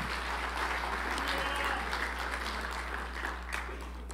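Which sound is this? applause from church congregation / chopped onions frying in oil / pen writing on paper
applause from church congregation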